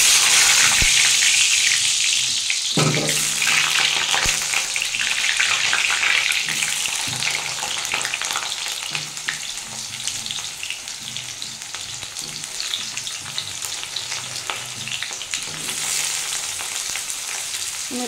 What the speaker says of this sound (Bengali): আমি এবার এতে আলুটা ভেজে নেবো একটু।